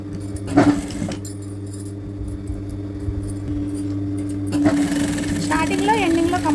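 A sewing machine stitches a baby blouse, running in a short burst near the start and again steadily toward the end, with a low constant hum between and a voice speaking over it.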